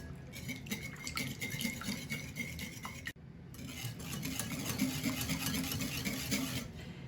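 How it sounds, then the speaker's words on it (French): A spoon stirs fresh baker's yeast and a glass of oil together in a bowl for seeded bread-roll dough, a steady scraping and swishing that pauses briefly midway and then resumes, close and fairly quiet. "Je rajoute un verre d'huile et je mélange le tout."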